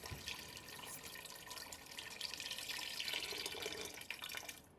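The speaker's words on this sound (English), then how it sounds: "then add some water or some meat stock if you have any" Water poured into a pot for Nigerian coconut rice, a steady broadband splashing and trickling that swells slightly toward the end, close and alone with no talk.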